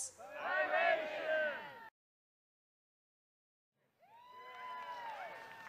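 A concert crowd at a roots reggae show cheers and whoops loudly for a band's arrival, breaks off into full silence for about two seconds, then rises again into sustained shouting.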